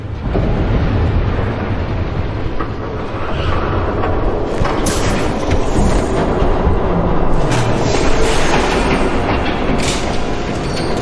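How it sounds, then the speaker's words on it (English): A train rumbles past in Batman: The Telltale Series, a steady, loud low roar with faint rail clatter that holds throughout, with no talking. "There's a train coming."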